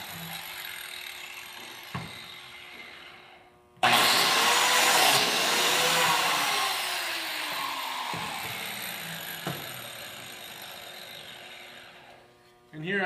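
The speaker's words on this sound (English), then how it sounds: "Get the blade spinning and then plunge it all the way till it stops and come back." Biscuit joiner cutting a slot in wood for a tile-top table: a motor hum builds, then a loud whining, rushing plunge cut that slowly tapers for several seconds, with faint clicks around it and the motor surging again at the end.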